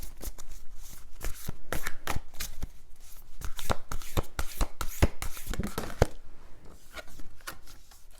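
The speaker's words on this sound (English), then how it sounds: "And we'll pull a few archetype cards for you." A deck of tarot archetype cards gets riffled and shuffled by hand, with rapid rhythmic flutters and slaps repeating for several seconds, close and clear with no talking.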